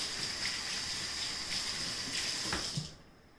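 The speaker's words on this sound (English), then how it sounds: "I'm going to wash my fingers" Fingers being washed under a running kitchen tap, a steady close hiss of water that stops abruptly near the end, with a brief soft knock just before.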